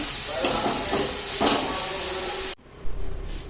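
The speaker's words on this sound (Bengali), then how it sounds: "এদিকে হচ্ছে যে ভাজাটা করছি" Food frying in a pan in a home kitchen, a loud steady sizzle and hiss close by with stirring scrapes, cutting off abruptly near the end to quieter background noise.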